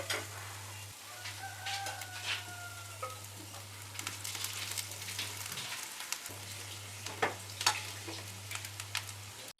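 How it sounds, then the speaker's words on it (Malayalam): Grated coconut roasting dry in a pan for a jackfruit-rind curry, a soft continuous scraping and light sizzle with intermittent stirring clicks, over a steady low hum, with a rooster crowing faintly in the distance. "തേങ്ങ നമുക്ക് വറുത്തെടുക്കാം"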